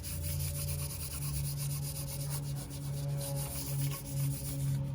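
Paint is rubbed into a garden paver by hand, giving a continuous soft, gritty scrubbing with a steady back-and-forth texture, close and fairly quiet, with no talking.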